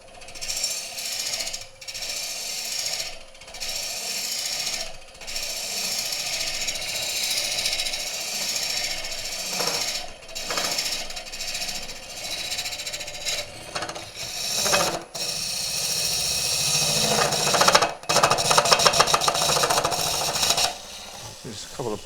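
Wood being hollowed with a Woodcut ProForme hollowing tool making plunge cuts near the bottom of a hole, a steady rough scraping and chattering cut with brief pauses and a louder burst near the end, with some talk under it.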